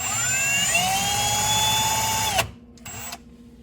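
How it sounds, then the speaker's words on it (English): A high-pitched 1/4-inch drill whirs steadily for over two seconds drilling a hole in a pipe, its pitch shifting slightly as it bites, then stops, followed by a brief short spin. "Use your 1/4-inch drill to drill the hole."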